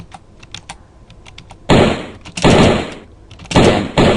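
Gunfire in a flash shooting game rings out as several loud, sharp bursts, separated by short gaps of lighter clicking.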